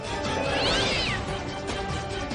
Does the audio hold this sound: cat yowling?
yes